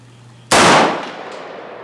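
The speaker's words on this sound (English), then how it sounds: "Okay, we shoot down and to the right again." A single loud, sharp gunshot from a DDI AK rifle at a shooting range, followed by a fading echo and tail.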